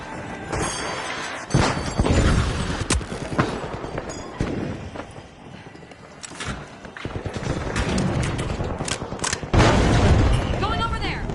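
A mine detonates in a live slot game, giving several loud booming blasts with crashing, shattering effects over continuous game sounds and music.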